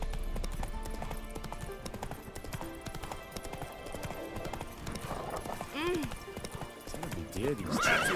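Roach the horse galloping in The Witcher 3, with rhythmic hoof clip-clops and a whinny under in-game talk and music.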